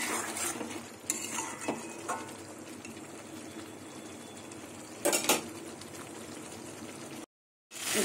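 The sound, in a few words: frying katla fish with spices in a pan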